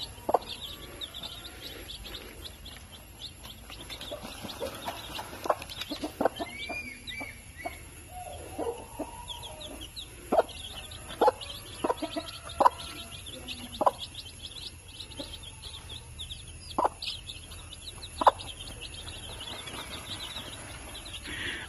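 A native mother hen clucks softly to her young chicks outdoors, with scattered faint peeps and chirps coming in short, irregular bursts.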